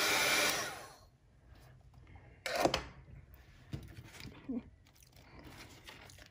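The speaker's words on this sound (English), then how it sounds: "sometimes I do still use a blow dryer to dry stuff" A blow dryer whirs loudly on a book for a moment, then cuts off. Scattered handling taps, rustles and small knocks follow at close range.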